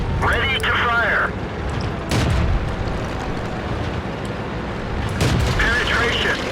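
A tank cannon fires in World of Tanks, two sharp booming blasts a few seconds apart, loud and close, over a rumbling game soundscape and voice chatter.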